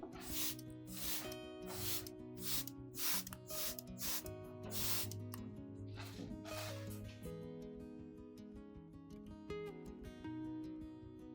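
A hand spray bottle misting nutrient solution onto a Phalaenopsis orchid, a run of short sharp hissing spritzes in quick rhythm, close and faint under soft background music.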